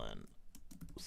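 Brief burst of quick keystrokes on a computer keyboard, faint clicks tapping in a short rapid run.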